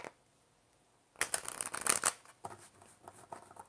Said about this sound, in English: I'm just feeling like I want to shuffle.